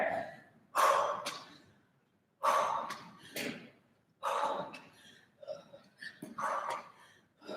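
Forceful exhaled breaths during a cardio ab workout with knee touches and pikes, coming in several sharp, loud bursts with short pauses between, close to the mic.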